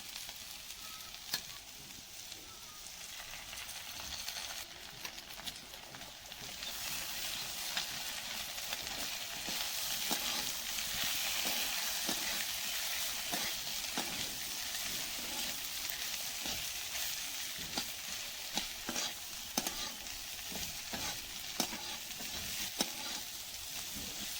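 An egg fries in a pan, a steady bright sizzle with small crackles and pops that grows a little louder after the first few seconds, with no one talking.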